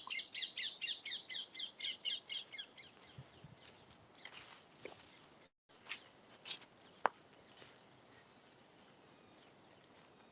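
Non-native hole-nesting canopy birds call in woodland in a rapid rhythmic series of loud, repeated chirps for the first few seconds, followed by scattered fainter calls, a brief gap, and quieter rustling at a fair distance.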